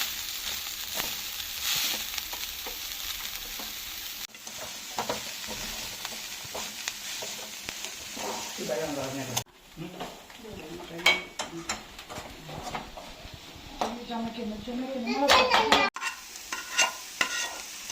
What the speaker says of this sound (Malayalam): ചീര അരിഞ്ഞത് ഇനി അരപ്പിനകത്തോട്ട് ചേർക്കുവാണേ. അരപ്പും ഇതും കൂടെ ചേർത്ത് ഇളക്കുക.